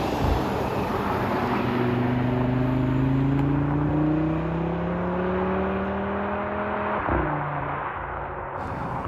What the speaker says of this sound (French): sonorité brute du 5 cylindres, que ce soit à l'extérieur comme à l'intérieur